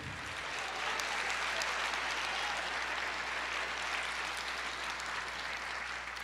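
A church congregation applauding: dense, steady clapping from many hands that keeps going at an even level throughout, with no talk over it.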